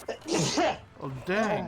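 A person sneezing close to the microphone, one sharp sneeze burst followed by a brief spoken reaction, during a casual gaming session.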